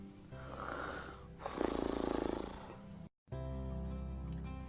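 A voice imitates loud, drawn-out snoring, a couple of rasping snores over a steady musical background, followed by a brief silence.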